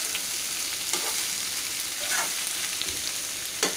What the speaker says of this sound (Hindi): अच्छे से इसे चलाएंगे